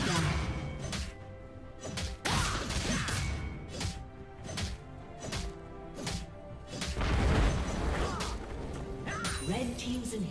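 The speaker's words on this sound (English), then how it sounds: "Red team's inhibitor has been destroyed" An inhibitor being destroyed in League of Legends, heard as repeated heavy crashes and thuds with whooshes amid dense game combat effects, loud and continuous, with an announcer voice in the game.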